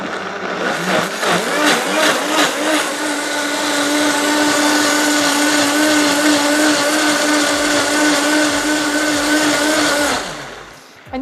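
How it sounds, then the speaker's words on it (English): A blender whirring at high speed, a loud steady motor roar that ramps up quickly, holds for several seconds, then winds down. "I'm going to blend this for about 20 seconds on high speed"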